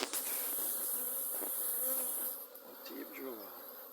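Dense, loud buzzing of many Saharan Buckfast honey bees close by at the hive, a continuous swarming hum with individual bees whizzing past.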